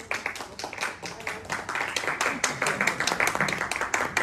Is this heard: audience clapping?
yes